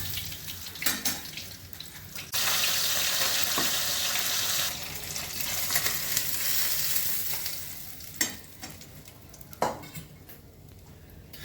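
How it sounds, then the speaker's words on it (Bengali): Falui fish fry in oil in a pan, a continuous sizzle that swells and fades, with scraping stirs and sharp metallic clinks of utensils against the pan at intervals. "মাছগুলো ভেজে নিচ্ছি।"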